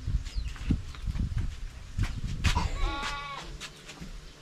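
Goats bleat near a pen several times, loud wavering cries rising over rustling and thumps, with one long quavering bleat standing out in the middle.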